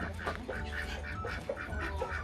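Ducks quack repeatedly in quick, nasal bursts, close by and fairly steady across the short stretch, with no talk over them.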